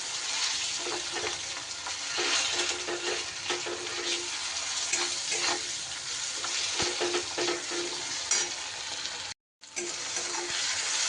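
Tomato and onion fry in a pan, producing a continuous close sizzle with stirring scrapes throughout and a brief cut near the end.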